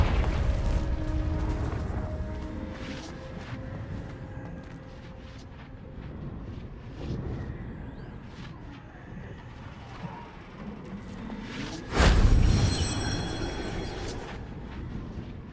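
Spell blasts from Bombarda and Confringo in Hogwarts Legacy, a rumbling low roar building to one loud, sharp explosive burst near the end, with a crackling tail and no talking.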